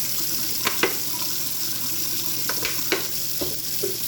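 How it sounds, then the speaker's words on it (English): Tap water runs steadily into a kitchen sink while hands are rinsed, a continuous close hiss broken by a few soft splashes and clinks, with no talking. "We'll rinse off my hands. And actually I'm going for a full wash."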